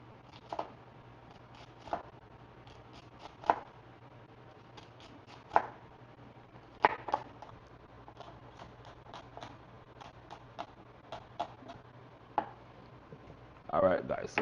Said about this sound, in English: I like to cut onion a certain kind of way. Put some little cuts like this.